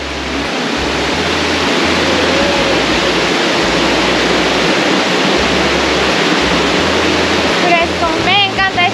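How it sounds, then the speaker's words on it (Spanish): A river rushes loudly and steadily nearby, a dense broadband roar of flowing water that fills the whole stretch, with voices briefly rising over it near the end. "Ahí viene el río."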